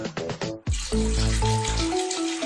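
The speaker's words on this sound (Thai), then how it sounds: "น้ำสิงครับเทลงไปเลยครับ" Singha bottled water poured into a bucket for an ice bucket challenge, a close, steady splashing gush starting after a short gap and filling the rest of the moment, with a rising fill tone.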